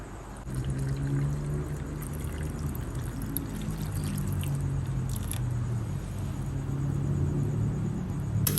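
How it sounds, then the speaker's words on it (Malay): Water poured into a glass vase at home, a continuous close trickling and splashing that holds steady for several seconds with a low background rumble and no talk. "Dah nak, dah nak isi air dalam Dara punya pasu kaca pula"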